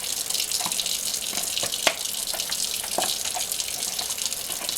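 Water from a sink tap runs steadily over Omega 8004 juicer parts being rinsed and brushed, close and continuous, with occasional splashes and knocks.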